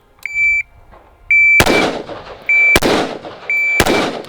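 Short electronic beeps from a shot timer sound in pairs, each followed closely by a single loud, sharp gunshot; three shots in all, evenly spaced, with no talking, during shooting training.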